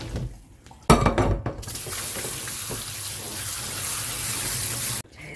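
Tap water runs steadily into a sink over boiled beef tendon being rinsed, a broad continuous gush lasting several seconds after a brief clatter at the start, then cutting off abruptly.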